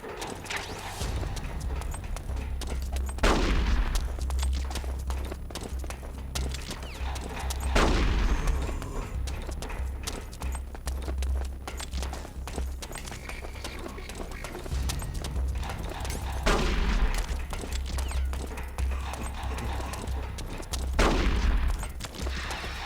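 Gunfire from the video game Metal Gear Solid: The Twin Snakes, several loud shots and bursts spaced a few seconds apart over a constant low game background rumble, with no talking.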